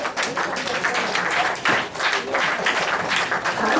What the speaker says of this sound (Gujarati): બધા તાળી પાડે, હાથ ઊંચા કરી બધા તાળીઓ પાડે